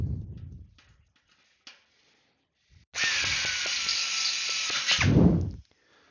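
A handheld power drill bores holes into an aircraft wing under construction: one steady, loud whirring run of about two seconds, rising into a harsher burst near the end, framed by quiet pauses and faint handling knocks.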